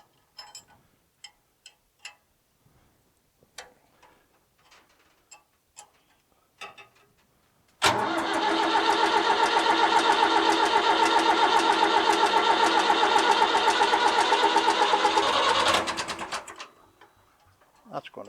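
An old David Brown 990 Selectamatic tractor engine cranks and catches, then runs at a loud, steady, close diesel rattle for about eight seconds before cutting off, after scattered faint clicks and taps.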